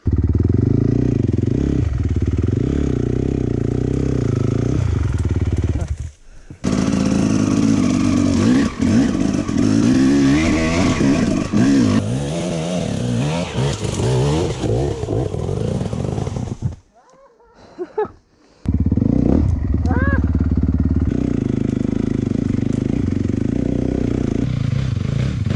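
A dirt bike engine with a new clutch revs hard and loud nearby on an enduro trail, sustained buzzing with rising and falling throttle, broken by two short drops, with clattering and some voices.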